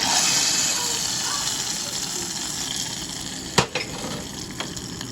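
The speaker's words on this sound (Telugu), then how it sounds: "సో ఈ పోపుని ఇందులో వేసేస్తున్నాను" Steady hiss of hot oil sizzling throughout, with a couple of sharp crackles and pops near the end as a mustard-seed tempering is poured into kidney bean curry.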